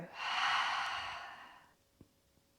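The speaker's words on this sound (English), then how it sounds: "Open your mouth, let the breath go." A long, slow exhale through the open mouth during a morning yoga flow, close and breathy, fading out over about a second and a half and followed by quiet.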